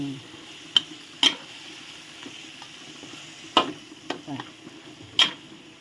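Chicken curry with pickled bamboo shoots is stirred in a pot. A utensil knocks against the pot in a few sharp, separate clacks, with soft stirring and low noise in between.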